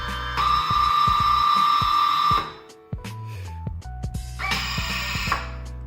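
Sustained high electronic beeping tone from an XK X350 Air Dancer drone lasting a couple of seconds, a pause with faint clicks and handling noise, then the beeping returns.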